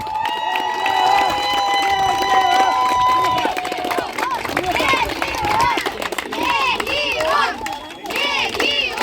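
Crowd cheering and clapping at an amateur football cup award ceremony, a dense steady roar of voices and applause lasting throughout, with whistle-like tones early on and shouting rising over the noise.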